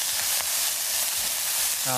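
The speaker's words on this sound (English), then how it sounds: "This should make a very nice sizzle sound like that." Loud, steady sizzling and crackling of spring onion frying in hot wok oil for stir-fried rice noodles, a voice starting right at the end.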